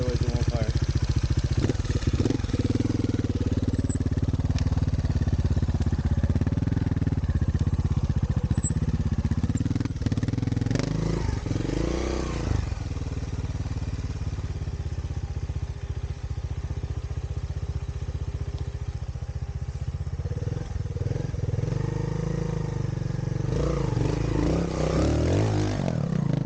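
A 2022 Montesa Cota 301rr Repsol trials motorcycle, kickstarted and running, gives a steady close engine drone with clattery revs and rises in pitch, while voices talk over it.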